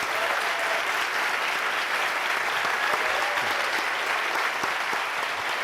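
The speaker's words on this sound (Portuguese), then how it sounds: "Peço então aplausos ao Pepetela." An audience at a literary festival applauds an author in a dense, even burst of clapping that holds steady throughout.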